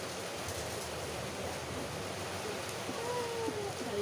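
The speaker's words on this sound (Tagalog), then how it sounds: "Oh, umulan pa." Steady rainfall as a soft, even hiss at low level, continuous and fairly distant, with a faint tonal whine rising briefly near the end.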